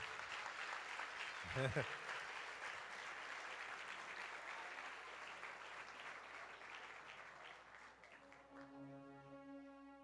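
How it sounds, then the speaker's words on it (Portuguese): A church congregation applauds a visiting pastor in sustained, moderately distant clapping that holds steady and then fades, with a brief thump early on and a sustained musical tone rising underneath near the end. "Vamos dar um aplauso a Jesus pela vida dele."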